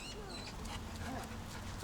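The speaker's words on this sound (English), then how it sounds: "oh, look at that for a dog" A dog by a canal gives soft, high whimpers and yips over a steady outdoor background, close but faint, with people talking around it.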